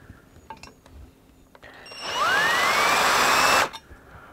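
A power drill with a 6.5 mm bit whirs up to a steady high whine while drilling a start point into a Warn 8274 winch housing, running about a second and a half after a few light clinks.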